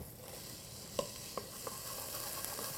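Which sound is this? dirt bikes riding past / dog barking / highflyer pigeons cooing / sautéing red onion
sautéing red onion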